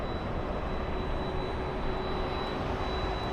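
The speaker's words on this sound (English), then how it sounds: "CF6 engines, I hear them." A jet airliner powered by CF6 engines passes near Los Angeles International Airport, giving a steady, loud broadband roar that holds constant throughout with no talk over it.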